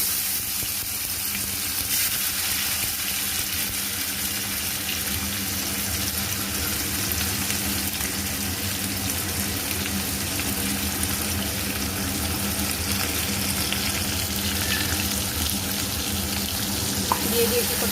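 Chopped tomatoes frying in a pan for a pabda fish curry, a loud steady sizzle that holds unbroken for the whole stretch, close up, with no talking.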